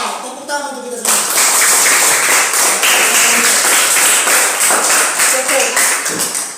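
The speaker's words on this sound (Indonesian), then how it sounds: "Nah, tepuk tangan untuk kita semua." A classroom group claps in unison, dense loud rhythmic hand clapping starting after a brief spoken moment and continuing steadily to the end.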